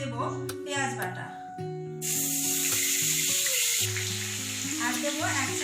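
Onion paste hits hot oil with fried whole cumin seeds for a tilapia curry and erupts into a loud, continuous sizzle that hisses steadily from about the midpoint on, with melodic background music throughout.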